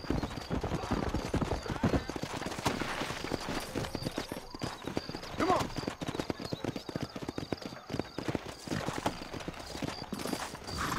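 Rapid hoofbeats of a horse in the video game Red Dead Redemption clatter steadily for several seconds, with a whinny rising midway, loud and close.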